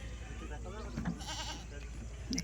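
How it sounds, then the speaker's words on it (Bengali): A goat bleats briefly nearby by a riverbank while a person talks over a steady outdoor background hum. "ছাগলটা বসে আছে"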